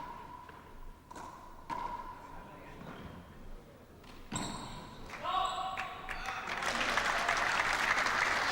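Applause rises during a squash match between two players, beginning with scattered claps amid court thuds and building into fuller clapping from the crowd, with voices underneath.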